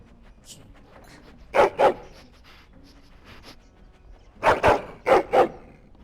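A dog barks in the fantasy role-playing game Dragon Age Origins: a quick pair of loud, close barks, a pause filled with faint background sounds, then a burst of four more barks in steady succession.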